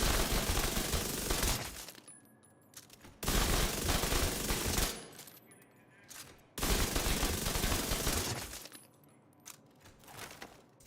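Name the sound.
gunfire from a video game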